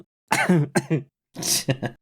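Several harsh coughs in quick bursts, with throat clearing, close to the microphone and separated by short silences.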